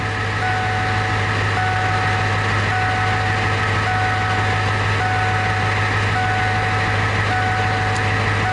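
A truck engine idles steadily while warming up, with a constant low rumble and a faint high whine, unchanging for the whole stretch, no voices.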